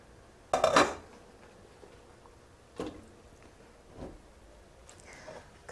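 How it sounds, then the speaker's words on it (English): Chunks of kumara, carrot and parsnip drop into a cooking pot, making one loud clattering knock, then a couple of softer thuds and scrapes in a quiet room. "put together the kumara, carrot and parsnip in the pot"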